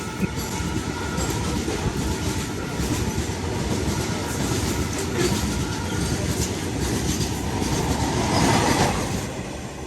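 A moving passenger train, the Banaras Dehradun Express, rumbles steadily with dense rhythmic clatter of wheels on rails, loud and continuous throughout.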